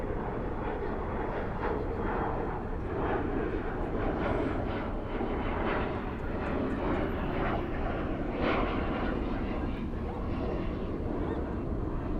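An airliner arriving from Portland, Maine passes at night at Dallas/Fort Worth airport, its engine roar a steady broad wash that holds for the whole stretch with no talk over it.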